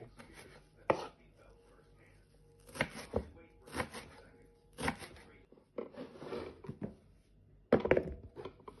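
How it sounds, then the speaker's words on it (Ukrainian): A knife finely chops dried parsley on a cutting board in irregular bursts of sharp thuds, close by, with quiet pauses between. "Наша петрушка просохла, ріжемо її дрібно ножем"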